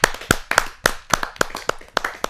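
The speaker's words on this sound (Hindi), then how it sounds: "जोरदार ताली के साथ हम स्वागत करें शिवांश सरल जी का" Audience at a Hindi poetry gathering clapping to welcome a senior lyricist, heard as a series of about nine sharp, evenly spaced hand claps, fairly close and alone.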